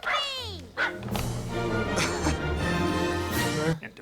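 A dog barks and yips in an animated Toy Story film scene, loud and close, over music and voices.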